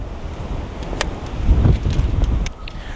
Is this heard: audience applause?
no